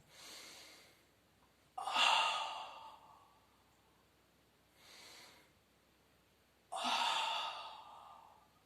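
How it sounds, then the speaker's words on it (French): Deep, audible breaths drawn in and pushed out during a Pilates exercise, close and loud, with two strong sighing exhales separated by quieter breaths in a slow, steady rhythm. "5 inspirations, 5 expirations."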